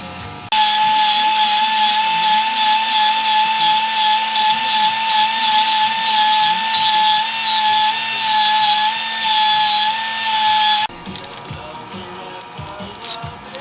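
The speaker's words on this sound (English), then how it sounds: "just take the grinder to it real quick, lop it off and smooth her out" A grinder cuts off a tab on a valve cover to make room for a supercharger belt, giving a loud, steady high-pitched whine for about ten seconds before it cuts off abruptly.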